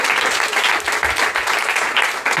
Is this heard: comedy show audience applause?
yes